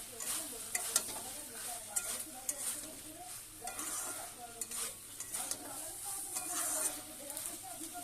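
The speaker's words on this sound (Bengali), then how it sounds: "ভেজে রাখা মাছগুলোকে দিয়ে দিয়ে একটু নেড়ে ছেড়ে নিয়ে নামিয়ে" Spatula stirring fried dried fish through Malabar spinach in a pan, scraping in irregular strokes over a soft steady sizzle, with occasional light clinks of utensil on metal; no talking.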